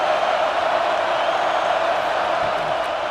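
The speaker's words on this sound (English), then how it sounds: "this crowd imploring its defense to stand firm" A football stadium crowd roars in a dense, steady wash of cheering that holds at full volume the whole time, with no single voice standing out.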